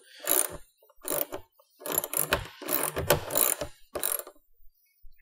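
A hand ratchet tightens a nut firmly into place in bursts of quick clicking, five or six short runs separated by brief pauses, close and fairly loud, with no one talking.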